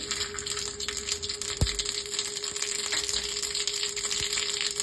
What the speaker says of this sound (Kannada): ಸಾಸಿವೆ ಹಾಕ್ತಾ ಇದ್ದೀನಿ.